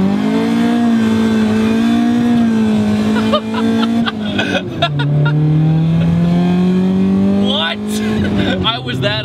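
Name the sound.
Honda CRX with full exhaust revving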